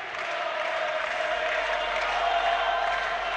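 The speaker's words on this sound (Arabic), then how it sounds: "تشجيعات الجماهير" A football crowd in a stadium cheers and claps through a final match, a steady, fairly distant wash of applause and voices without pauses.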